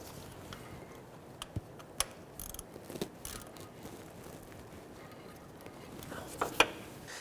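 Ratchet snugging a tensioner bolt back in place on a 1992-1996 Toyota Camry 2.2L four-cylinder during a water pump housing job, faint scattered clicks and ticks over quiet background noise.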